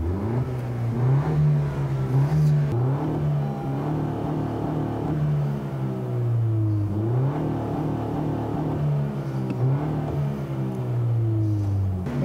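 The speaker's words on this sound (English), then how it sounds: "SIs have always been known for having a very sporty sound" A 2017 Honda Civic Si engine revving repeatedly, a steady idle hum rising into several throttle blips with rising and falling pitch, close and fairly loud, no talking.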